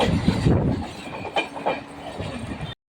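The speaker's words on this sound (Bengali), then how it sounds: "এখন শ্রীরামপুর স্টেশন দিয়ে বেরিয়ে যাচ্ছে একটি এক্সপ্রেস ট্রেন" An express train rumbles through a station close by with rhythmic wheel clatter and a brief metallic squeal, loud and continuous until it cuts off.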